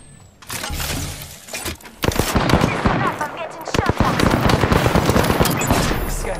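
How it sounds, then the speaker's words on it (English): Automatic gunfire in Apex Legends rattles in dense rapid bursts, loud and close, starting after a short quiet moment and continuing with sharp cracks and impacts. "I'm getting shot at"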